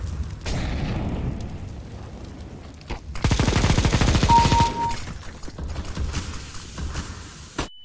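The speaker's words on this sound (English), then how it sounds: "Laying down smoke. Throwing grenade, throwing fire." In the video game CS:GO, a grenade and an incendiary are thrown, followed by loud bursts of rapid gunfire and booming explosions that swell into a dense, crackling barrage before tapering off.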